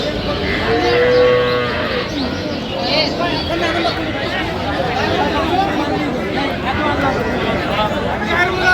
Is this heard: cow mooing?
yes